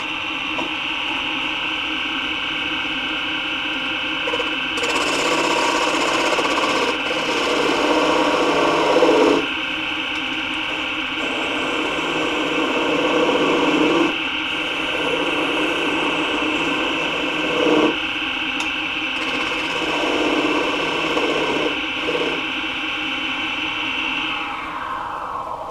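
Wood spins on a lathe while a spindle detail gouge cuts, a steady motor hum under repeated rasping, scraping passes that swell and fade over about twenty-five seconds.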